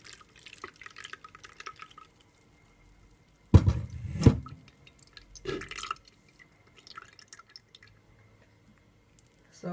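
Carrot, pineapple and strawberry juice drips and trickles through a small strainer, with scattered small drips and a couple of louder splashy pours in the middle, close and otherwise quiet.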